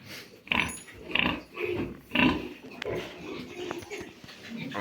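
A farm pig eats and drinks, giving a series of snuffling grunts and wet slurping bursts in an uneven rhythm at close range, with some background noise between them.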